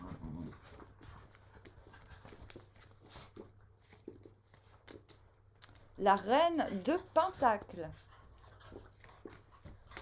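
Dogs panting and whimpering indoors, a faint rhythmic panting at first followed by a louder burst of high, wavering whines in the middle, with someone talking quietly at times.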